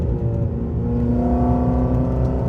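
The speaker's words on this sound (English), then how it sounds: "we are in a Fiat 500 and we're about to merge with traffic." A Fiat 500 with a handmade intake pulls up to merge with traffic on a hot day, its engine droning steadily with a rising, sustained hum heard from inside the cabin, no talking.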